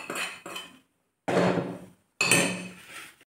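Papad chutney is scraped from a pan onto a plate in three loud, close bursts of metal scraping and clinking, separated by short silences, with no voices.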